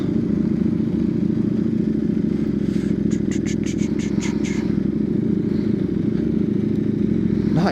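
A new, powerful motorcycle rides into town with a steady, close engine drone throughout, and a brief burst of rapid rattling clicks in the middle.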